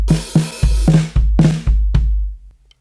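Drum fill-in from a worship song, a rapid run of loud tom and snare hits with heavy low thumps, ending in a crash that fades, played alone up close.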